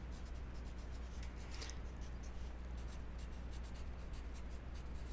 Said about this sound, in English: So I'm going to write the word congratulations.